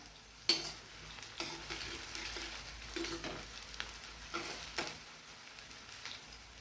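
Sliced onion fries in oil for poha, a faint, steady sizzle with occasional soft scrapes and taps of a stirring spoon, heard close and alone at low level.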